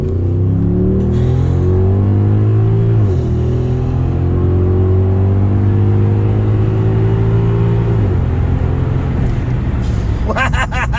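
Mercedes W211 E63 AMG V8 engine revving hard, loud deep rumbling blips that climb and fall in pitch across several seconds, ending with a sharper burst, close to the car.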